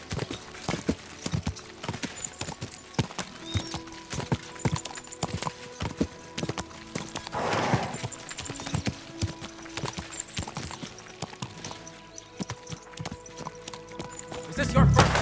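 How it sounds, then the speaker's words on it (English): Horse hooves clip-clop in a rapid, steady rhythm in the medieval video game Kingdom Come Deliverance II, with a brief whinny partway through and voices speaking over the hoofbeats. "Is this your first time riding a horse"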